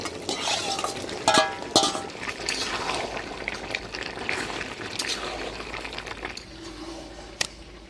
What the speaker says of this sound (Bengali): মশলার সাথে মাংসটা ভালো করে নাড়াচাড়া করে নিব